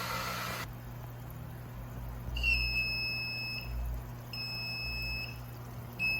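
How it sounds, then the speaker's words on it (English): Full-water alarm on a 120 gallon aquarium tank sounds as two long, high electronic beeps over a steady background hum of running water and equipment. "Got the warning that the 120 is now full, and I got the alarm, the full alarm."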